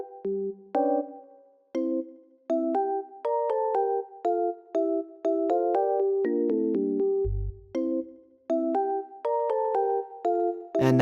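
Short melodic note phrases ring through a Tanked reverb plugin with damping turned up, so the tails stay short and clipped. The clean, close notes play in a steady rhythm with brief gaps between them.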